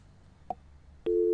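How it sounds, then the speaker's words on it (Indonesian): A telephone line answered during a live radio talk show gives a short click, then a steady busy tone that starts abruptly and holds near and clear to the end. "Ada telepon yang masuk nih, kita terima telepon dulu nih."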